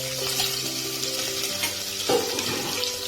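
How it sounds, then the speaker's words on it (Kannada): Onion and curry leaves frying in hot oil with mustard seeds for a brinjal gravy, giving a constant close sizzle under a steady humming tone, with a short clatter near the end and no talking. "ಇದನ್ನು ಸ್ವಲ್ಪ ಫ್ರೈ ಮಾಡೋಣ."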